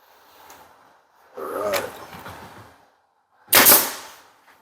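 A pneumatic nail gun fires into a 3/4 panel, attaching a cabinet face frame, with two sharp close shots separated by quiet gaps, the second louder and snappier.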